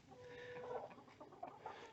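Chickens cluck softly in a small farm pen with a rooster among the flock, a few quiet, close clucks and murmurs over a steady faint background, with no talking.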